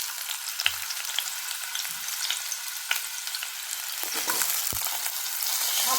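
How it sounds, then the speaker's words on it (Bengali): Diced potatoes fry in oil in a kadai, giving a dense continuous sizzle with scattered scrapes and taps of stirring that build slightly louder toward the end. "কড়াইয়ে আরেকটু তেল দিয়ে আমি ডুমো ডুমো করে কেটে রাখা আলুগুলো ছেড়ে দিলাম।"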